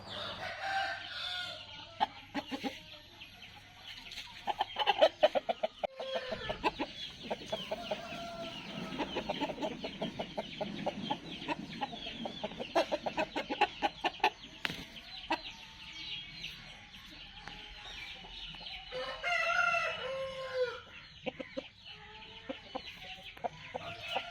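Hens cluck busily and a rooster crows loudly nearby, with scratching and fluttering noises mixed in among the continuous farmyard chatter.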